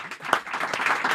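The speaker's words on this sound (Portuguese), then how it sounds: "Palmas, senhoras e senhores." Studio audience applauding on a Portuguese-language Bible history podcast, a short burst of dense, steady clapping close by.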